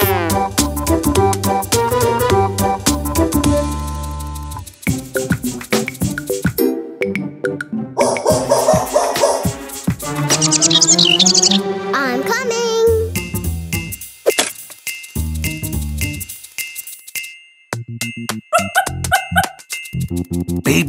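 A cartoon dog in a children's animated show barks amid a busy, loud mix of tinkling music and a voice.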